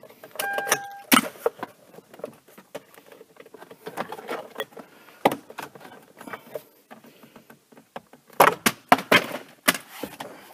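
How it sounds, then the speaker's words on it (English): Plastic steering column cover on a 2007-2010 Hyundai Elantra being pried apart with a pick tool, giving sharp scattered clicks, snaps and creaks, close and fairly loud, with quieter rustling between bursts. "We're going to pry out with the pick tool while we lift up or pull down on the bottom."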